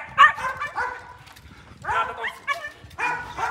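Small three-month-old trained puppy giving high yipping barks in short bursts, close and fairly loud, with people talking around it.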